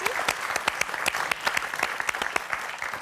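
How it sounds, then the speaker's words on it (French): Studio audience applause on the French TV game show Motus, sharp individual hand claps standing out over a wash of clapping, rhythmic and close, sustained for a few seconds. "Mais on va vous applaudir quand même"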